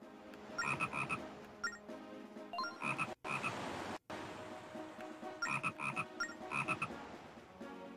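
A frog croaks repeatedly in the Zelda Phantom Hourglass video game, in steady rhythmic bursts with brief pauses, clear and prominent against a quiet game background.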